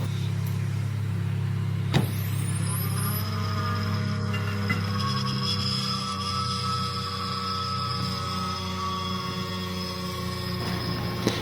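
An Audi 48V mild hybrid alternator spins up on a test platform: a quick rising whine settles into a steady, close electrical hum with layered tonal harmonics that holds without pause.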